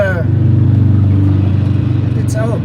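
Motorcycle engines rumble nearby with a throbbing, pulsing drone, passing at moderate loudness while brief voices cut in at the start and end.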